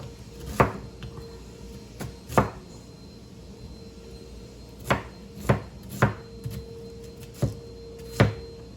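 A knife chops vegetables on a small cutting board in a home kitchen, sharp isolated thuds spaced irregularly, about nine strokes in all, against a quiet room.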